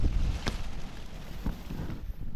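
Strong, steady wind roars across the microphone on an open outdoor spot during a cold evening of fishing, with occasional gusty buffets and faint knocks.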